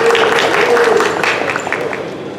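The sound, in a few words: audience applause for a soloist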